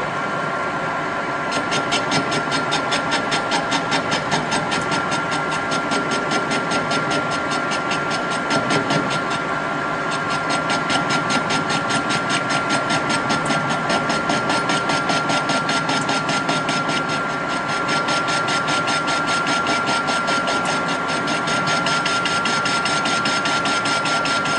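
A metal lathe fitted with a steady rest takes light facing cuts with an insert tool, giving a continuous, even machine drone with a thin cutting whine throughout and no speech.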